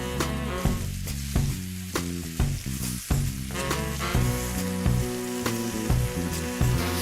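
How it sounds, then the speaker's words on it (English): Marinated chicken pieces sizzle steadily in medium-hot oil in a pan, a continuous frying hiss running beneath loud, prominent background music. "Now that the oil is medium hot, let's start frying these chicken pieces."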